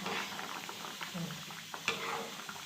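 Okra tamarind saaru (bendekayi huli saaru) bubbles in a pot in a steady, soft, close simmer, with light stirring and no talking.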